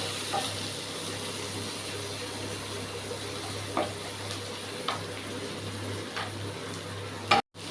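Onions fry in a pan for upma, giving a soft, steady sizzle with a few scrapes and taps of stirring close by.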